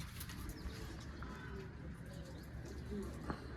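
Pigeons coo softly at a village feeding spot with a bird-catching net, low throaty calls surfacing now and then over a steady, noisy outdoor background.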